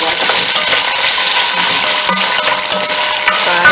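Diced, cleaned vegetables sizzle and fry steadily in a pot as the base for a green pea soup, with loud continuous crackling, occasional stirring and light utensil clinks, no talk.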